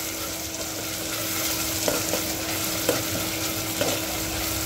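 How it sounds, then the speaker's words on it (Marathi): Masala for a drumstick curry fries in hot oil with a dense, steady sizzle, broken by a few soft scrapes from a spoon as it is stirred. "आणि याला 2-3 मिनिटं छान तेल सुटतपर्यंत शिजू द्यायचं आहे."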